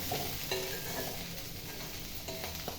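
Chana dal, sesame seeds and mint sautéing in a pan, giving a soft steady sizzle with a few light stirring scrapes and clinks, close and without talk.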